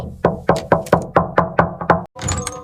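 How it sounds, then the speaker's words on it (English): Eight quick, gentle knocks on a door in an even rhythm, close and clear, followed by a short pause and a soft, indistinct rustle. "I will tap on the door like a butterfly."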